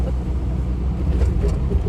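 A classic car rolling along bumpy, winding English country roads, giving a continuous low rumble of engine and road noise from inside the cabin with small uneven jolts.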